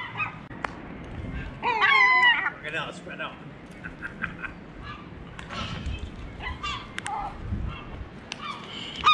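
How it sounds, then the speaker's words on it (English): Seagulls squawk and screech while squabbling over pizza outside a pub in Newquay, Cornwall, a sharp honking cry rising briefly near the start, followed by scattered calls amid people talking nearby. "Seagull fight with a pizza."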